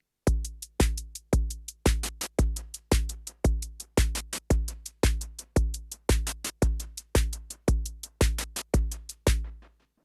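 A Korg Volca Drum plays a slow 6/8 shuffle pattern with zero swing: a steady, even run of punchy kick-like drum hits with a deep boomy low end and brief decays, about two per second, close and alone, with a little hand-clap fill near the end.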